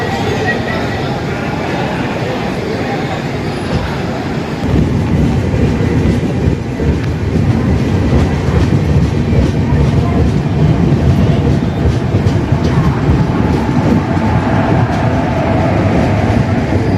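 A train pulls out of Kottayam station in light rain, heard from inside as a loud continuous rumble with rhythmic wheel clatter, the noise building slightly after a few seconds and carrying on steadily.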